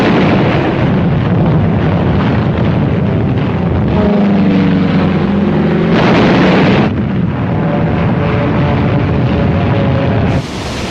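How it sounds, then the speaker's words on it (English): Massive aerial bombardment of Iwo Jima in 1945 in archival war footage, a loud continuous roar of explosions and rumbling blasts with droning aircraft, dense and unbroken throughout. "Wave after wave of American aircraft paved the way with a massive aerial"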